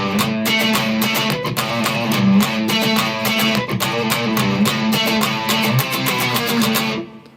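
Guitar in standard tuning plays the intro of a song, a dense, driving riff with steady rhythmic strums and bright distorted tone, loud and continuous before cutting off at the end.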